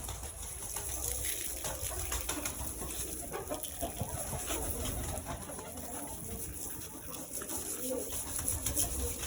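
Pigeons coo continuously in a noisy enclosure, with a constant hum and occasional clucks and rustling throughout.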